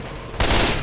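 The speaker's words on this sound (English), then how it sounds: "You are shooting me!" Rapid automatic gunfire erupts suddenly in Left 4 Dead 2, a loud, dense burst of shots that fills the sound right up close after a quieter lead-in.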